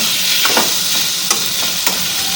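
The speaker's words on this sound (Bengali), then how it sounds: "এইটাও পুরো যতক্ষণ কষবে ততক্ষণ এটাকে নাড়াচাড়া করে নিতে হবে 2-3 মিনিট ধরে" Chopped tomato fries in a pan under a steady, fairly loud sizzle while a spatula stirs it, giving a few soft scrapes and light taps at uneven intervals.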